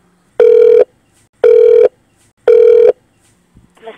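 Three identical electronic beeps of a telephone call transfer tone, evenly spaced about a second apart, each steady and clear on an otherwise quiet line, followed by a faint rustle.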